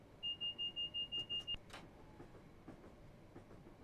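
Train running on the GEML London to Ipswich line in Train Simulator 2022: a quick series of eight electronic beeps, then a faint low rumble with scattered soft clicks and clanks.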